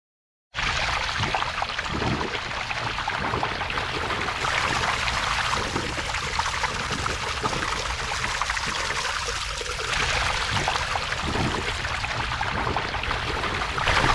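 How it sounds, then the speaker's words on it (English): Heavy rainwater swirls in a vortex down a yard catch basin into a drain pipe, a steady, loud, close rushing and gurgling that runs unbroken throughout. "This is pulling all of the water from this area directly into the pipe."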